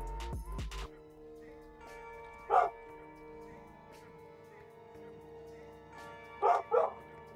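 A dog gives a few short barks, one near the start and a quick pair later, over a faint background of music.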